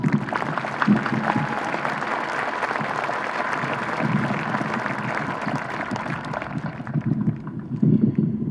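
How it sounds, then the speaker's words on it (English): A large audience at a high school graduation ceremony gives the staff a long round of applause, dense steady clapping that carries on for several seconds before thinning toward the end. "Can we please give our staff a big round of applause?"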